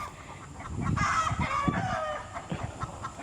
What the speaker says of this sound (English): Something's going on with the chickens.